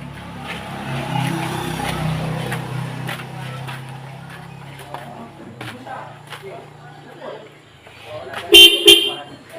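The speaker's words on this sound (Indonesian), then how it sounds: "Motor baru klakson baru nih bos" A new motorbike horn gives a couple of brief, loud honks near the end, after several seconds of people talking over traffic noise.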